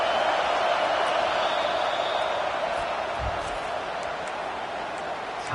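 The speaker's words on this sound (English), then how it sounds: "Big 3rd down as the crowd gets behind this defense." Stadium crowd roaring on a big third down in the video game College Football 25, a loud sustained wash of cheering voices with no break, steady and distant-sounding throughout.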